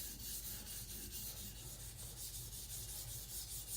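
A knife blade is drawn over a sharpening stone in quick, repeated rubbing strokes, a soft rhythmic scraping heard up close and faint, with no one speaking.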